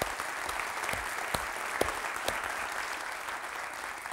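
Applause from a conference audience at a software conference keynote, a moderate wash of clapping with a few sharper individual claps standing out near the front, fairly distant and even, with no talk.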